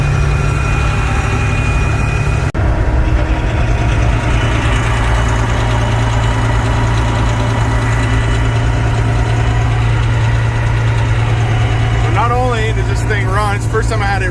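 A Peterbilt 379 truck engine runs for the first time after a rebuild, idling with a loud, steady low rumble close by throughout, briefly interrupted near the start, with a voice speaking toward the end.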